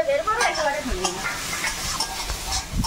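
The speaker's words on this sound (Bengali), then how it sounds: "চর্বিটা দিয়ে একটু ভেজে নিয়েছি" Spices fry in rendered goat fat while a spoon stirs and scrapes the pan, giving a soft sizzle broken by irregular clinks and scraping strokes, fairly close.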